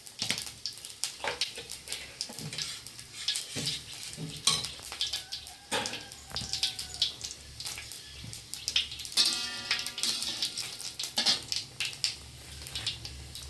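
Whole dried red chilli and panch phoron spluttering in hot oil, a steady crackling sizzle with sharp pops and clinks of a spoon against the pan, close and fairly loud throughout.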